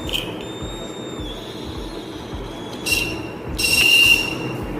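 A homemade float-operated water level alarm on a tank sounds a thin high-pitched electronic tone that wavers and shifts pitch, swelling louder in short bursts near the end over steady room noise.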